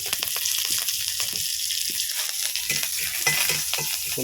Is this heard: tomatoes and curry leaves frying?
yes